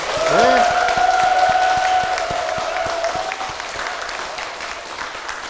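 Congregation at a Korean church applauds steadily throughout, a dense crowd clapping with a sustained tone ringing over it.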